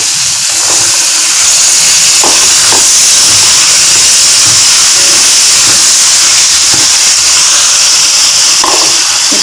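Potatoes tossed into a hot pan with turmeric while cooking a mixed vegetable kootu give a loud, steady sizzling hiss with a few light clinks, heard close, and no one talks.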